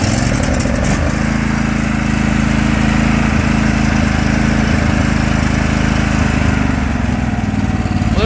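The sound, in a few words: Craftsman lawn tractor 25 horsepower V-twin Intech engine starting and running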